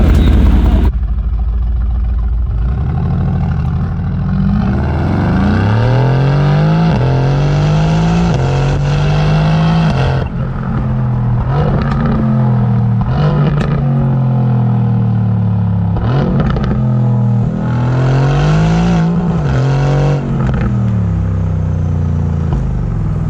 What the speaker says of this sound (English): I'm gonna throw the GoPro on the back of the AMG GTR to get a pure exhaust clip